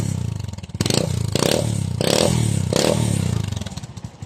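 A motorcycle fitted with a 304 stainless steel exhaust pipe revs up loudly several times in short bursts over a fast, close, crackling idle, with no talking.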